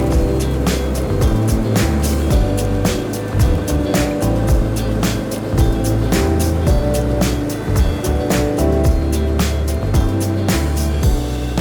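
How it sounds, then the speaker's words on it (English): A lawn mower running with its scalping wheels removed, cutting a lawn very low and collecting the clippings. It gives a loud, steady engine drone with regular pulsing beats throughout. "I ended up taking the scalping wheels basically off the deck of that mower, so it scalped down lower."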